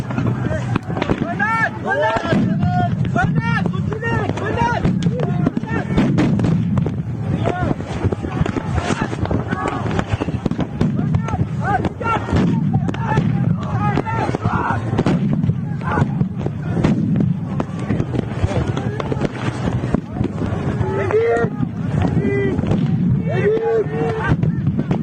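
Chaotic protest scene at Sainte-Soline with repeated explosive bangs and shouting voices calling out throughout, dense and continuous crowd noise layered over the blasts.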